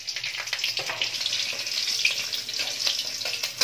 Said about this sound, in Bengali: তেলটা গরম হয়ে গেছে, এবার এর মধ্যে দিয়ে দিলাম দেখো দুটো তেজপাতা আর দেব একটু জিরা আর একটা কাঁচা লঙ্কা